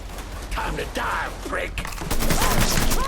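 Rapid gunfire bursts in the video game Mafia 3, dense shots crackling loudly through the second half after a stretch of talking voices, with speech continuing over the shooting.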